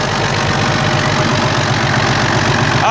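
An FNM 180 truck engine idles after sitting parked for three years, giving a loud, close, steady rough rumble with a rhythmic low-pitched knock throughout.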